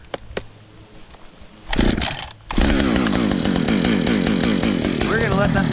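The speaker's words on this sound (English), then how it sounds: "let's get the saw started" Chainsaw pulled into life with a crotch start: quiet pull cord tugs, a brief sputtering catch, then the engine fires and runs loud and steady close by, buzzing on through the rest with a rising rev near the end.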